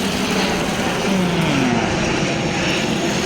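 A passing airplane's engine roar fills the air above a shopping area in Canada, fairly loud, with a slowly falling pitch as it goes over.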